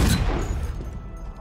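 Gunfire in Halo Infinite: a quick cluster of loud, booming shots at the start, then a fading rumbling tail, with no voices.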